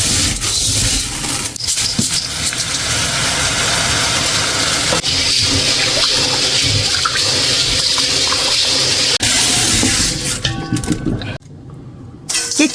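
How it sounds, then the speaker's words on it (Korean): Old red adzuki beans are scrubbed hard and rinsed in water, giving a loud, continuous rush of sloshing and running water that drops off abruptly near the end, with a voice faintly present underneath. "박박 문질러서 깨끗이 씻어야 됩니다."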